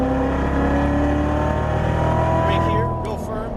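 A Chevrolet Corvette Stingray Z06 engine drones loud and steady as the car powers out of a corner on a race track, the sustained roar easing slightly near the end with a brief tire or wind hiss.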